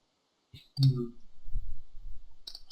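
Computer mouse clicking while playing FIFA Online 3, a few sharp, close clicks spaced apart, with low murmuring voice and room noise between them.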